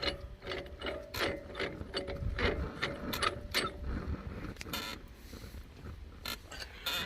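A brake caliper piston press on a 2012 Dodge Grand Caravan's rear brakes is turned by hand, producing a run of close, crisp ratchet clicks in uneven bursts with no talking.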